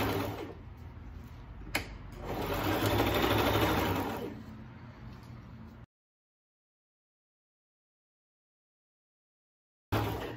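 A sewing machine stitches fabric and ribbon for a double-layer tutu anklet, a close steady mechanical whirr that speeds up in the middle, then stops into near silence before briefly resuming at the end, with no speech.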